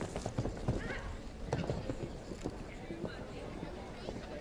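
Horse hooves thud and clop in uneven rhythm across a show jumping arena, fairly faint and partly under the voice of a commentator who talks throughout.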